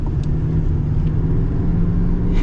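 A lifted 2024 Chevy Silverado 3500 High Country with the Duramax engine gives a loud, steady low rumble with a droning hum for a couple of seconds, heard close and alone.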